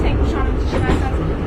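Metro train running through an underground tunnel, a steady low rumble and rattle heard throughout, with people talking over it.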